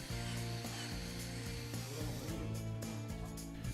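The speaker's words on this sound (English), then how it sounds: "This is achieved by moving the drill bit inside the hole from side to side." A power drill whines steadily at close range, its pitch dipping and surging repeatedly as the bit moves side to side, widening a hole for composite decking.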